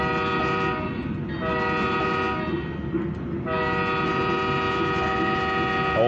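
A locomotive horn sounds in a train simulator game while passing a station at about 47 mph: two long sustained blasts separated by a brief gap, loud and steady over a constant engine rumble, with no talking.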